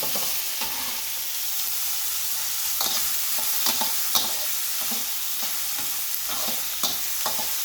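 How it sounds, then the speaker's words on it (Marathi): Chopped onion stirred and fried in a pan for pav bhaji, a continuous hissing sizzle broken by repeated spatula scrapes and clinks at an irregular rhythm, close and moderate in level, with no speech. "आणि इथे कांदा टाकल्यानंतर आपण याला चांगला हलवून घेणार आहोत."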